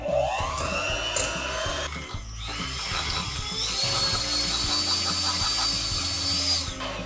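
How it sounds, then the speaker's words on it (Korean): An electric mixer beats room-temperature butter for lemon cookies, a steady high whirring motor drone close by with rattling and knocking from the beaters against the bowl, running continuously. "이 실온 버터를 먼저 기계를 이용해서 부드럽게 풀어볼게요"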